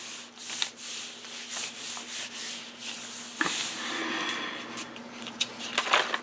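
Textured wallpaper is rubbed by hand over a painted gelli plate, giving a soft, close scratchy friction that comes in quiet uneven strokes with small taps and rustles.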